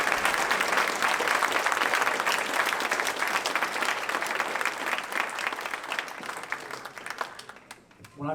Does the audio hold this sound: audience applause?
yes